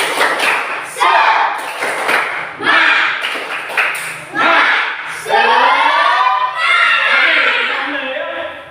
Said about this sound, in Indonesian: Kita beri dulu tepuk semangat